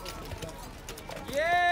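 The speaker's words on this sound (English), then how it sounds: "Now we're gonna do horse riding." Horse hooves clip-clop during a horse ride at Kufri near Shimla, India, with a few soft, uneven steps under people talking, ending in a short tonal call.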